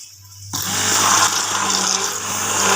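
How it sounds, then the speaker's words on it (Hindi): An electric blender starts abruptly and whirs loudly and steadily as it blends yogurt, a continuous dense motor roar with no talk. "अच्छे से ब्लेंड कर लेंगे"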